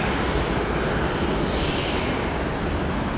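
A Southwest Boeing 737 Max 8 airliner rumbles steadily nearby, with a dense, unbroken engine roar and wind-like rush that holds even throughout.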